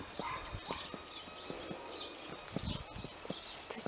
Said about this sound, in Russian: кто-то собаку мучит